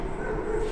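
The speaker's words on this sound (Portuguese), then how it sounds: "Ai, o cachorro, velho." A dog barks or yelps at night inside a house amid a tense search, short sharp yips sounding close under a steady low hum, with people's voices mixed in.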